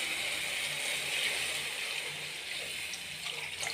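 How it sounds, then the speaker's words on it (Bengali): Water poured into a cooking pot of fried spices for a Bengali taro-leaf vegetable curry, a steady, faint, continuous splashing rush that runs the whole time without talk. "এরপর আমি এর মধ্যে জল দিয়ে দেবো।"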